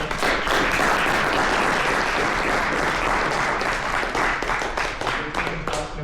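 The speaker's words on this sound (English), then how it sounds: "I want you all to give a round of applause to all the organizers here" Sustained audience applause at an AI HDL awards ceremony, dense steady clapping from a large crowd throughout, fairly loud and close, with faint voices mixed in.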